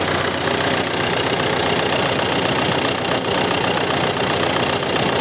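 David Brown 990 tractor engine running at raised RPM, a loud, steady, dense mechanical drone with a fast rhythmic chatter, unbroken throughout.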